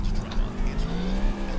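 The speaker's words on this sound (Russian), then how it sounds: "Запускай двигатель." Car engine in Grand Theft Auto IV, a steady loud revving drone with rising pitch that runs throughout, joined by faint tire noise.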